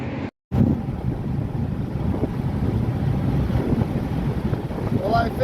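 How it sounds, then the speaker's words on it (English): A 1963 Imperial Custom cruises along the highway, wind and road roar filling the cabin in a steady, loud rush with a brief dropout near the start. "I'm driving this baby 6 hours home, 371 miles."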